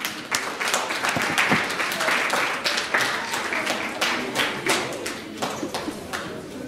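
Audience applause for second-grade performers at a school creative arts and science fair: a dense burst of clapping from a crowd indoors, fairly close, thinning out toward the end, with some talking mixed in.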